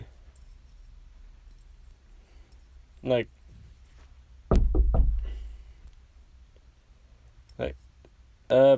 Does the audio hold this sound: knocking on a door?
yes